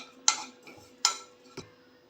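Roasted coconut being taken out of a pan, heard as three distinct metallic scrapes and clinks of a utensil against the pan, close and fairly quiet, with short pauses between them.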